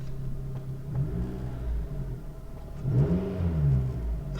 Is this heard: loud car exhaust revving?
yes